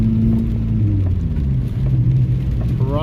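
A car driving at night on asphalt gives a steady low rumble of engine and road noise, close and continuous with no talk.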